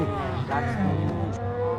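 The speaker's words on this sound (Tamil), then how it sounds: "என்ன மாடு இருக்கு?" A cow moos in the Minecraft video game, a low drawn-out call heard under overlapping game sounds and background voices.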